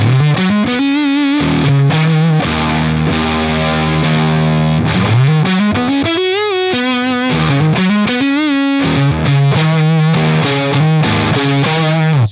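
Heavily distorted electric guitar through a Drunk Beaver Pedals Seattle Driver on the low pickup, with a dark, thick tone, playing sustained chords and sliding riffs continuously, loud and up front.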